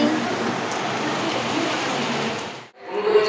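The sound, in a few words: rain falling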